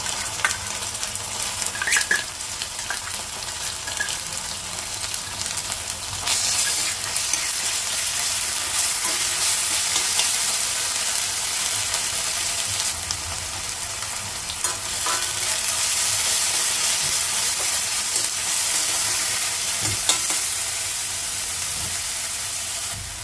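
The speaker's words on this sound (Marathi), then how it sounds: "मसाल्याचं वाटण आपण भाजून घेतलेलं आहे" A ground spice paste fries with onion in oil for a Kolhapur-style bhogichi bhaji, a continuous close sizzle broken by occasional stirring scrapes.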